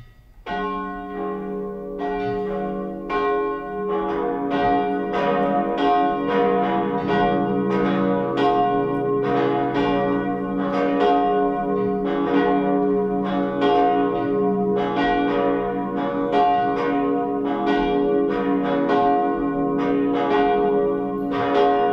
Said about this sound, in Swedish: Nu får vi lyssna till klockringningen.